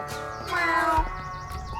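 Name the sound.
cats meowing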